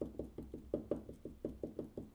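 Steady knocking on a door, about a dozen evenly spaced raps in quick rhythm, moderately loud and close, with no talk over it.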